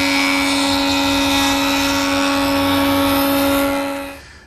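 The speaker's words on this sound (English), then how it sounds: "And one cleanup pass at the joiner on that freshly sawn edge." A jointer making a cleanup pass on a freshly sawn wooden edge, a loud steady high-pitched machine whine with strong tonal hum, held evenly before quickly winding down at the end.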